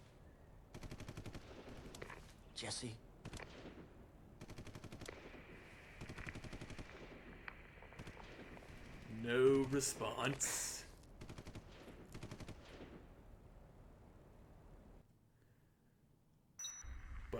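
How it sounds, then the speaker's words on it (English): Distant machine gun fire in the video game Dead Rising: faint bursts and rattles under a steady background hum, with one louder burst partway through and a voice speaking briefly. "That sounds like gunfire."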